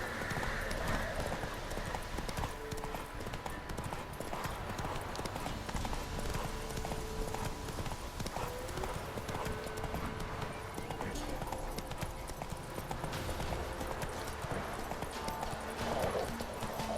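Horse hooves galloping steadily in The Witcher 3, a continuous rhythmic clip-clop over game ambience, with an occasional whinny and some talk in the mix.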